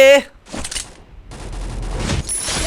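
Rapid bursts of submachine-gun fire from an MP40 in the battle-royale game Free Fire, rattling in loud stretches that swell toward the end, with a brief voice at the start.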